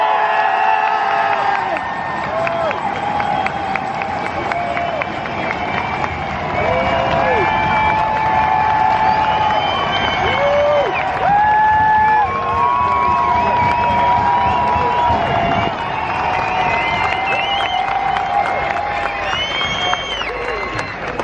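A large festival crowd at a drifting event at Mondello Park roars and cheers, whooping and shouting continuously and loudly for the whole stretch while an announcer's amplified voice sounds over it.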